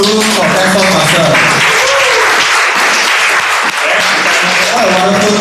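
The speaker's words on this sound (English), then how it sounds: "Let's give a round of applause to two contest Toastmasters." Loud, sustained applause from a crowd at a Toastmasters contest, honoring two contest Toastmasters, with continuous dense clapping throughout and a voice talking over it.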